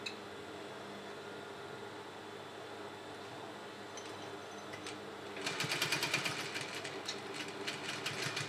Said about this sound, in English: So we're going to stitch in the ditch.